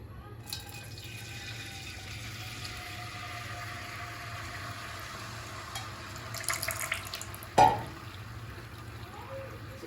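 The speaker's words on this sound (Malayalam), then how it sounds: "ഇനി ഇതിലേക്ക് ഉരുക്കിയെടുത്തിട്ടുള്ള ശർക്കര ഒന്ന് അരിച്ചൊഴിക്കാം" Melted jaggery syrup strained and poured: a faint liquid trickle and splash comes late and briefly over a low steady hum, with a quiet background otherwise.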